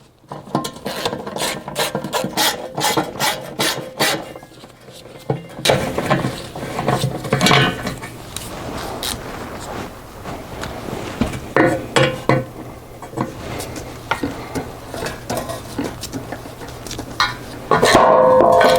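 A hand ratchet loosens the 13mm transmission cross member bolts under a Sprinter van, with rapid runs of loud clicking pawl strokes repeated in bursts and short pauses between them.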